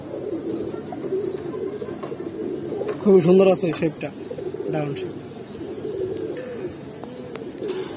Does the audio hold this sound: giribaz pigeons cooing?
yes